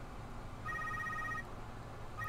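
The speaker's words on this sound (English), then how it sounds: "Phone's ringing." A telephone rings in the video game The Secret World, an electronic two-tone trill repeating twice at moderate volume with no talking.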